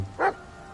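A single short dog bark from The Medium video game, a clear mid-pitched bark alone over quiet ambience.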